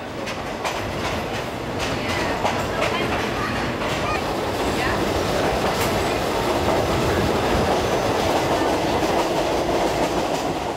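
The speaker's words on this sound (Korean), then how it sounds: "덜커덩 덜커덩 죽음의 열차란 이름이 무색할 만큼 평온하고 느긋하게 달리는 3등 완행 열차" A slow third-class passenger train on the Death Railway near the River Kwai in Thailand rumbles steadily along the rails with continuous clattering and rattling, loud and close throughout, a constant rolling din with occasional metallic clicks.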